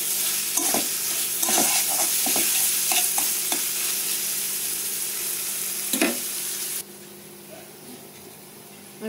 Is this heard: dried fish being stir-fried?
yes